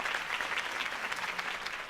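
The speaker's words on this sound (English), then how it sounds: "If only Mr. Wayne, my campaign's largest backer, could have heard that applause" Crowd applause in the video game Batman: A Telltale Series, a steady, dense wash of clapping that carries on without pause throughout, with no voices over it.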